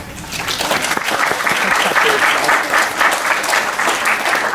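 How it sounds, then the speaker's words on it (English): A room full of people claps in a sustained, even burst of applause at a dental practice gathering, close and loud, with a few murmured voices underneath. "So you give them a round of applause too"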